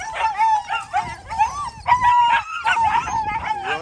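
Several puppies bark, yip and howl in a continuous, overlapping chorus close by, high-pitched cries rising and falling without pause.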